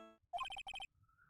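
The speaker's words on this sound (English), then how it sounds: "Sorry, that's my phone." A phone plays its ringtone: two quick bursts of bright electronic tones, each a short run of repeated pulses, loud and close, with nobody speaking over it.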